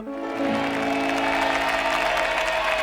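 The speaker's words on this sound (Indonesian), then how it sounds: "Vicky Prasetyo, tepuk tangan dulu" A television talent-show studio audience breaks into loud, dense applause that starts abruptly and holds steady, with a musical tone sounding underneath.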